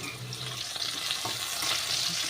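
Potatoes frying in a pan make a dense, even hiss and crackle that holds steady and close throughout, with no talking.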